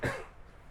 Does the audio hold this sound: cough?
yes